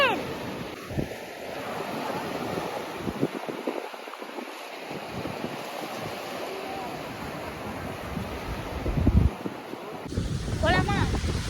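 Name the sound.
waves at Thoothukudi beach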